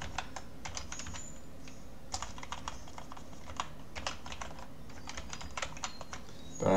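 Fingers type on a computer keyboard in quick irregular bursts of crisp clicks, close and clear against quiet room tone, with no one talking.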